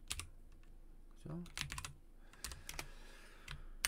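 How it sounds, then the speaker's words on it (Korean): Computer keyboard typing during a Korean C programming lesson on array pointers, with clusters of quick key clicks interrupted by brief speech from the person typing. "타이핑 하려니까 힘드네요"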